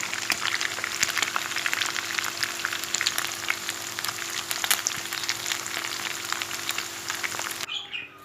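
Steady crackling sizzle of meatballs frying in hot oil in a pan, close and continuous, ending abruptly near the end.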